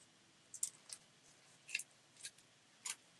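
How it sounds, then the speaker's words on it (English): Scissors snip through flower stems for a pansy wreath, five or six crisp, separate cuts spaced irregularly, close and fairly quiet against a silent background. "Scissors."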